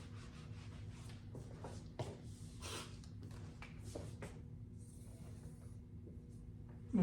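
A board eraser rubs out math writing in a classroom, giving several soft scraping strokes at moderate level in a steady rhythm, alone without talk.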